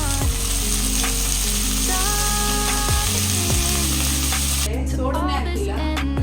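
Vegetables dropped into hot tempering oil for a home-cooked sagu/kurma crackle with a loud, steady sizzle throughout, a strong hum running underneath and a brief scrape near the end.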